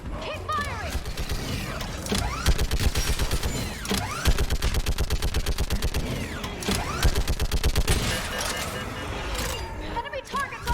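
Gunfire in the video game Mass Effect 3: rapid bursts of automatic weapon fire rattle in fast, repeated volleys alongside mechanical clanks, loud and close, with voices heard amid the shooting.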